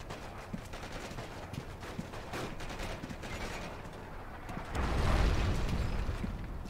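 Gunfire and artillery blasts in a Forgotten Hope 2 multiplayer battle on Mount Olympus, with scattered shots early, then a louder, heavier rumbling explosion swelling near the end.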